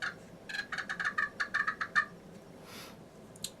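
A mouth call imitates a wild turkey hen, giving a quick run of about a dozen sharp, rhythmic clucks and purrs heard close, then a softer note and a couple of faint final clucks.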